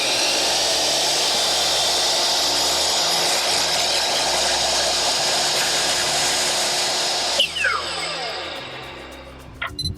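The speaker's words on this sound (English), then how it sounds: "let's go ahead and see how much power a big miter saw like this uses" A large miter saw runs off a Jackery HomePower 3000 power station, giving a loud, steady motor whine through most of the stretch before spinning down near the end, with no talking.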